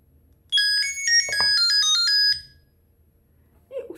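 A Petoi Bittle X robot dog plays a short, bright electronic startup melody of quick rising and falling beeps, loud and close, followed by a faint click and then quiet.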